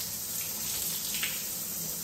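Water splashing and draining out of Crocs shoes held upside down, a steady close gushing trickle with a brief louder splash partway through.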